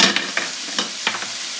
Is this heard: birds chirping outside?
no